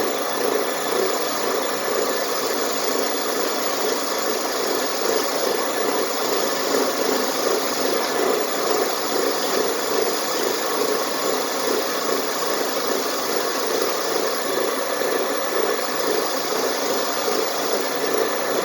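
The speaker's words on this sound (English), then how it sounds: "Sorry for the noise of the grinder too" Steady whirring grinder with a brass wire wheel running continuously, with a dense abrasive scratching texture as a Ford 841 tractor exhaust valve is pressed against the spinning wheel; no voices.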